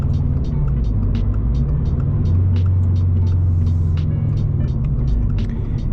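Toyota GR86 running on E85 fuel under partial throttle in third gear, a steady, loud low engine drone holding close throughout, with sharp periodic ticking above it and no talk.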